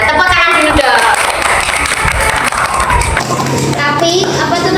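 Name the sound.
group clapping hands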